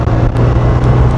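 A 2025 BMW R 12 S roadster motorcycle engine pulling on the throttle, a steady loud low drone with a strong rumbling hum that holds evenly through a brief moment, no voices.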